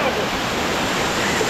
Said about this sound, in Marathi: आता या धबधब्यापाशी जाऊया, भिजूया मग.